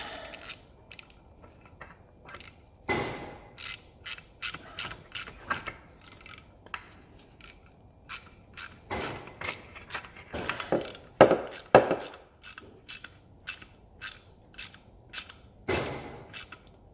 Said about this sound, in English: 10mm screw and washer, screw it in.